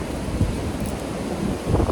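A gust of wind buffets the microphone on an exposed mountain summit during a windstorm, a steady rough roar that swells near the end.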